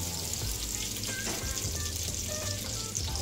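A kilo of roughly chopped onion frying in hot oil in a large pot, a continuous even sizzle with light bubbling, close and steady, no talking.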